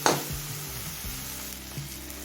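A Bengali spice mix for chhana tadka frying hard over a high flame, a dense close sizzle after a brief clattering stir at the start, with a faint low hum underneath.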